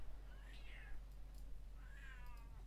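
A cat meows twice, faint and fairly close, each call a drawn-out rising-and-falling whine separated by about a second and a half of quiet, with a low steady hum underneath.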